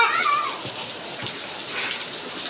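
Rain falls outdoors while a child bathes in it, making a steady, dense hiss of drops throughout with a few soft knocks underneath.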